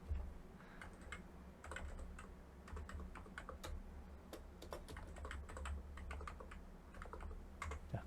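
Code being typed on a computer keyboard, a quiet close run of rapid, irregular key clicks with short pauses between bursts and no talking.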